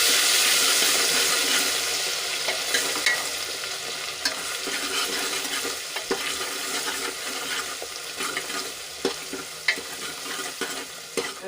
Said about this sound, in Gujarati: આદુ લસણ અને મરચાં થોડાક સંતળાઈ ગયા છે